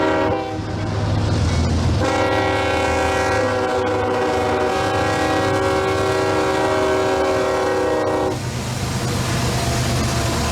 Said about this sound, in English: And that is a really cool locomotive right there.